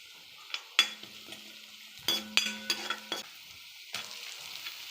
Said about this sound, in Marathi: बारीक कांदा चिरलेला परतून घेऊ।